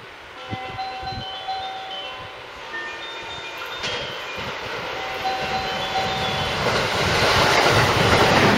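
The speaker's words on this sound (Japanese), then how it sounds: "1番乗り場を列車が通過します。" A Series 281 Haruka limited express train rolls through Mozu Station on the Hanwa Line in Japan with rhythmic wheel clatter and faint squeals, growing louder and brighter as it approaches.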